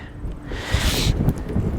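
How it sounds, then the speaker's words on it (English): Strong countryside wind near Lake Tabourie buffets the microphone in a continuous low roar, swelling louder through the middle with gusty rumbling and no voices. "can't believe how friggin' windy it is out here."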